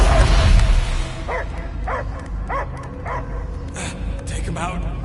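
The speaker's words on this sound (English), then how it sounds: "I hear only barking." A dog in the video game Guardians of the Galaxy gives a series of short, evenly spaced barks and yips at close range after a burst of louder game sound at the start.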